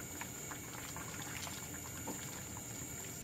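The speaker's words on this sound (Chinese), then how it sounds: "最后加入一把洗干净的茼蒿进去烫一烫，搅匀后就可以关火出锅了" A pot of malatang broth with chrysanthemum greens boils steadily, giving a dense, continuous bubbling and simmering sound heard close by.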